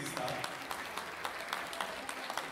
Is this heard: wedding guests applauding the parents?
yes